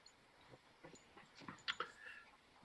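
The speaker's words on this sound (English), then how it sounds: "Can y'all hear my dogs?" A large dog whimpers indoors, a few soft, high, breathy whines and yips spread across the moment, faint and intermittent against a quiet room.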